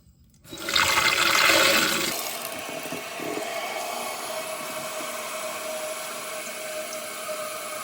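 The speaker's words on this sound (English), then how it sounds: "now I'm going to turn the water back on, flush it, and hopefully we are where we need to be" A toilet flushes just after repair of a running fault: a loud rushing surge of water lasting about a second and a half, then a steady refill hiss that continues to the end, with no voices.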